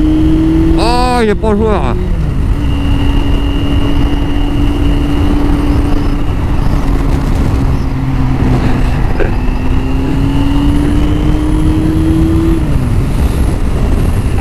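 A Nissan 350Z passes on the road with a steady engine drone that rises and falls in pitch, heard over constant close traffic noise while someone talks briefly.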